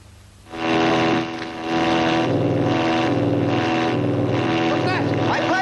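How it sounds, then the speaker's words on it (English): Propeller aircraft engines of a formation of planes fly overhead in an old film, a loud sustained droning roar that swells up and holds steady, with faint voices underneath. "My planes! Now passing Hinkle's flying division number 34."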